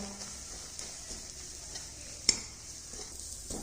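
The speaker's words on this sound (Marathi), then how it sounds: "ह्याला मध्यम गॅसवरती छान असं लालसर होईपर्यंत आपण परतून घेणार आहोत" Ground spice paste for an eggplant curry fries in a pan over medium heat, giving a steady soft sizzle with a few light scrapes of stirring and one sharp clink of the spoon near the middle; no talking.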